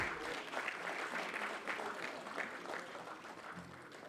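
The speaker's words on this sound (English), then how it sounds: "A round of applause." Audience applause at the grand finale of an event as a guest is invited up, a continuous wash of clapping heard from a distance, fairly faint and gradually easing toward the end.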